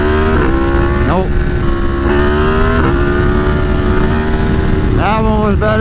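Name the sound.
Yamaha MT10 motorcycle engine revving during wheelie practice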